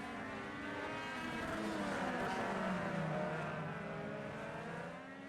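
Race cars lapping at the LA Coliseum, a sustained, loud engine roar with rising and falling pitch as cars pass close by, continuous and slightly fading at the end, with no talk.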